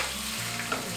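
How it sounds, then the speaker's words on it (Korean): Zucchini frying in hot oil in a pan, a steady close crackling sizzle with a low hum beneath, short and continuous with no talking. "기름이 지글지글 끓는 소리가 난다"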